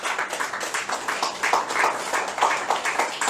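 A church congregation claps together in a dense, lively burst of applause that stays fairly even, close and loud throughout.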